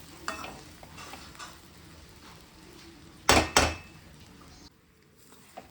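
Oats and soya granule upma is stirred in a pot, with quiet scraping and a soft sizzle, then two loud metallic clanks of the spoon against the pot close up, before the sound drops off.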